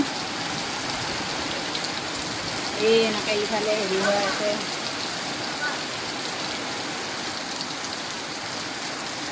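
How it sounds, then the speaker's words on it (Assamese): Steady rain hisses down with gusty wind throughout a storm with lightning, while a person speaks briefly partway through. "এই চাওক কেনেকৈ বতাহ বৰষুণ দিছে, বিজুলী মাৰি আছে।"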